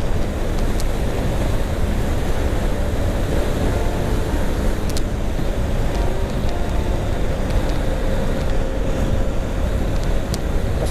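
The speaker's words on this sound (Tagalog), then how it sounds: "Grabe yung hangin." Loud, constant wind roar buffeting the microphone while riding a 2020 Yamaha NMAX scooter at speed, a dense rushing noise with engine rumble underneath, no voices.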